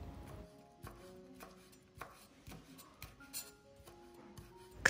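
A knife chops green onion stalks into short pieces while ingredients are prepared for shrimp-stuffed tofu, with a steady series of soft, quiet taps on a cutting board.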